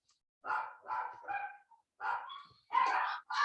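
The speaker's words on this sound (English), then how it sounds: "Don't need a doorbell when you got dogs. Little barky dogs, that is." Small dogs bark in a few sharp bursts, grouped in quick clusters with brief pauses between them, fairly close with no other sound.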